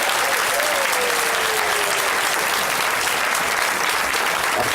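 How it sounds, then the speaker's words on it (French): Loud, steady applause from a church congregation fills the whole stretch, dense and continuous with a faint crowd murmur beneath. "Acclame très fort le Seigneur."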